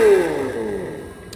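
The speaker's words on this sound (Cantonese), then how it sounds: "喇叭嘅引擎聲嚟" Simulated engine note from the onboard speaker of a realistic 1:8 scale CAPO 4WD four-wheel-steer R34 RC car: a loud, close synthetic rev with a tone falling steadily, then holding a steady hum.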